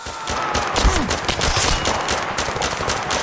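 Automatic gunfire in the VR shooter Zero Caliber, a dense continuous burst of rapid loud shots with overlapping reports throughout.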